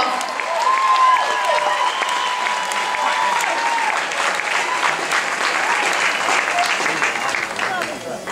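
Audience applause and cheering for a singer at a live concert, sustained crowd clapping with whoops, while a voice talks over the noise.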